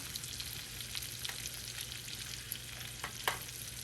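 Potatoes sizzling in an oil and butter mixture in a skillet, a steady close crackling fry with scattered sharper pops, quiet and alone without talk.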